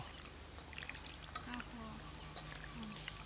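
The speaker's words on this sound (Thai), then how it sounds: "ต่อไปเราจะใส่น้ำหมักสูตรพิเศษของเรานะครับผมใส่มาเลย" Special marinade poured from a container onto pork for a crispy pork dish, a soft continuous trickle in a home kitchen, with light clinks and small background noises around it.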